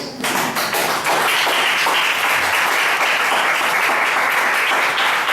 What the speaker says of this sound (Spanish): Regalen un aplauso fuerte a Dios.